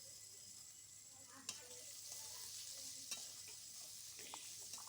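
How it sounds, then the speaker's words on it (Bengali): Diced potatoes sizzle steadily in a fried spice mixture for a dried cabbage and river shrimp dish, a continuous close frying hiss with a couple of soft stirring knocks. "এর মধ্যে আলুটা দিয়ে দিলাম"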